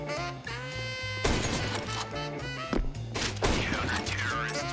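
Sniper rifle shots fired without scoping in a professional Counter-Strike match at DreamHack Masters Spring 2021: a few sharp, loud cracks at irregular intervals, layered over steady background music and game noise.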